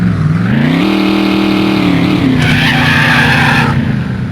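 A car in The Need for Speed (1995 PC racing game) drives under a loud, steady engine drone that rises in pitch, with a harsh tire skid screeching through the middle of the stretch.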